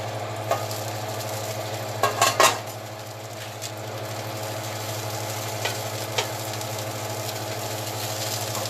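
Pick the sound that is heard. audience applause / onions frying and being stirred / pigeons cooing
onions frying and being stirred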